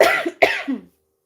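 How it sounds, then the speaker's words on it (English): Two harsh coughs in quick succession, close and loud, the second followed by a short throaty trailing sound before silence. "I'm also under the weather, so I might cough a lot"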